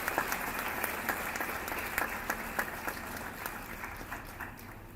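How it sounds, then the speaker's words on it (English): An audience at an international moot court competition on human rights applauds a panel, a steady patter of many hands clapping for about five seconds, moderately close and fading slightly toward the end. "Can we have a huge round of applause for the panel?"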